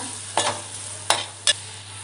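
Spoon scraping through dry shrimp curry as turmeric and coriander powder are stirred in, three short scrapes against a faint steady hum.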